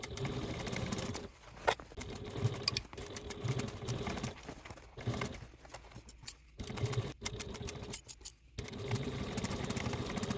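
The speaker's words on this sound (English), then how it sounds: "take this to your machine and sew at a 3/8 seam allowance away from the top edge" Sewing machine stitching a seam on a fabric project bag, steady rapid mechanical whirring in several bursts separated by short pauses, close and moderately quiet.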